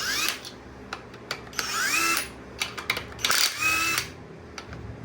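Loosening bolts on a small block Chevy engine with a homemade wrench socket: rapid mechanical whirring and ratcheting bursts up close, several short spinning runs with rising whines and clicks between them.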